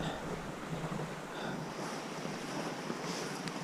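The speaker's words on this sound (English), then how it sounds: "Gentle stream, so it won't be all silty." Steady broadband rush of a gentle stream near Mount Rainier, continuous and fairly close, with a soft windy hiss and no voices.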